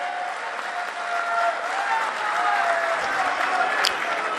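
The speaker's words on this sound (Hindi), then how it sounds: "जोरदार तालियों से स्वागत करेंगे।" An audience claps in a sustained, dense burst of applause at a political gathering in Jaipur, welcoming a party leader; the clapping holds steady for several seconds at fairly even loudness.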